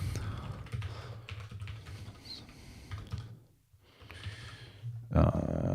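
Clicking keys on a computer keyboard rattle in quick irregular runs at close range, pausing briefly for a near-silent moment before a louder burst of typing near the end.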